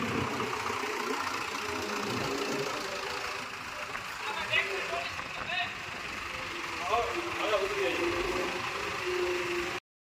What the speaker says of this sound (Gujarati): હવે ટ્રેક્ટર આ કાંટા ઉપર ચડાવી રહ્યા